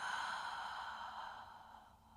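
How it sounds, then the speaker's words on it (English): A single long, deep exhale through an open mouth during a yoga breathing exercise, a steady airy breath that tapers off gently over about two seconds, close and alone. "Inhale deeply through your nose. Open mouth, exhale."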